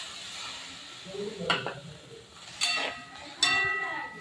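Gravy ingredients for cauliflower curry roasting in a pan, with a low sizzle under a few sharp scrapes and clinks of a spoon against metal, close and moderately loud.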